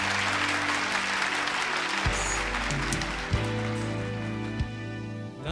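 An audience applauds on stage at a TV variety show as the singer is welcomed, a dense clapping wash over a sustained musical backing with a few thumping beats.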